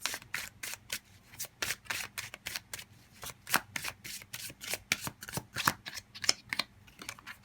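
Tarot cards are shuffled by hand in a fast, steady run of crisp riffling flutters, close and clear with no voices.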